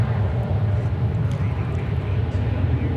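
An American Airlines Airbus A321 jet airplane at DFW Airport, a steady low engine rumble heard from a distance with no sharp changes.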